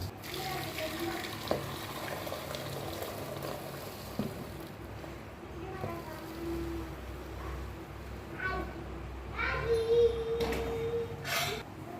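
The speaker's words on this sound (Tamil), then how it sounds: "அரிசி வடிகட்டி எடுத்துக்க போகிறேன்." Boiled seeraga samba rice drains through a strainer for mutton biryani, with a steady watery hiss and trickle, occasional clinks and a brief splash toward the end, all close by in a home kitchen.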